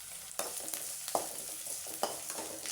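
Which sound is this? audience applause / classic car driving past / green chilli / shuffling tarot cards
green chilli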